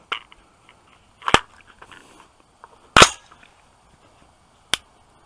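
Two sharp, loud shots from an AR15 rifle fitted with an Aimpoint Pro red dot, spaced about one and a half seconds apart, followed by a fainter crack, ringing out crisply at an outdoor range.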